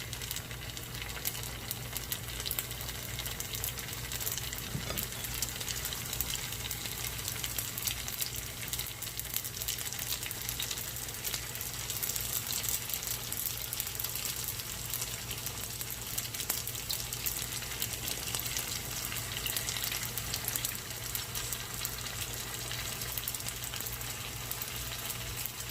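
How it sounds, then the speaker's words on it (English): Southwest egg rolls frying seam side down in oil in a cast iron pan, giving a steady, even crackling sizzle that holds at moderate volume throughout, with no talking. "we're just going to take them with the seam side down and just add them into the oil"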